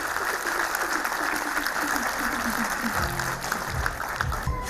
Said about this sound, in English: A big applause, parents, please.